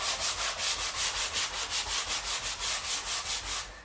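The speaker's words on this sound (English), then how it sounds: "Come back with a little bit of a light finer sandpaper here." Fine sandpaper rubs back and forth over a rotted wooden bathroom window sill in quick, regular strokes, each a close, hissing scrape.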